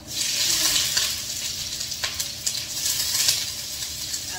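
Sliced onions frying in a pan for bihon guisado, a loud, continuous hiss and crackle of sizzling with faint stirring, no talk.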